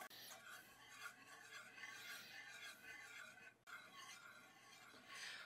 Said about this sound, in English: And we're just going to stir.